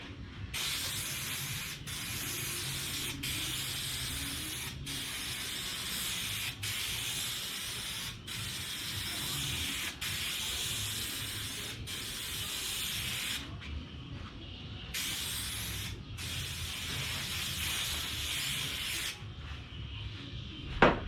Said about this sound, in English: And then you just give that a spray.